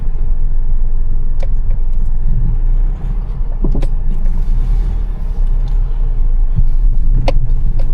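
Taxi car engine rumbling steadily while driving and pulling in to park, a continuous low drone with a few sharp clicks and knocks scattered through.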